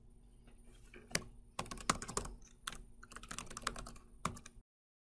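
Someone types an email address on a computer keyboard, with close, quiet key clicks in an irregular run that grows busier midway and then stops abruptly.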